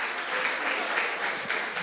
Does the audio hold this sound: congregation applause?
yes